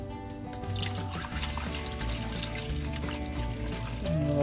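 Water pours in a steady stream into a coffee maker for several seconds, with constant tonal music playing in the background.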